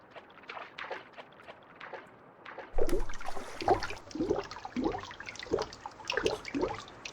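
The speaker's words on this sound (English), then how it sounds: "now when you swim around, you can kind of hear, well, basically just water sounds, like splashing" A character swimming in an indie video game produces rhythmic water splashes, quieter strokes at first and then louder, fuller splashing at a steady pace, with no music or voice.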